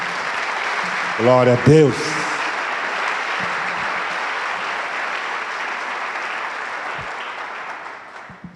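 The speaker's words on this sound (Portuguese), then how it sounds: "Vamos aplaudir ao Senhor por isso?" Church congregation applauding during a worship service, a broad continuous wave of clapping under a brief spoken exclamation, gradually thinning and softening toward the end.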